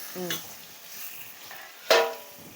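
Mutton pieces stirred through curry in a pan, with a few scraping knocks and a brief louder clatter near the end, soft sizzling underneath.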